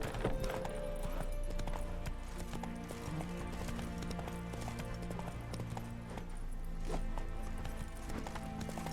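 Hooves of the horse Roach clip-clop in a quick, steady rhythm through The Witcher 3, with game music and ambience underneath at moderate level.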